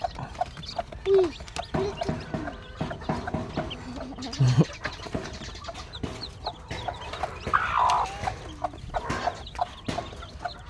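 A mother hen clucks near her three newly hatched chicks, low throaty clucks mixed with thin peeping and rustling, while people talk quietly nearby.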